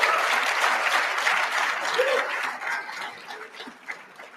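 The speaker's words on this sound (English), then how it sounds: "well-deserved applause" Audience applause fills a hall at the OPC awards dinner, a steady broadband wash of many hands clapping throughout, easing slightly toward the end with a little murmuring underneath.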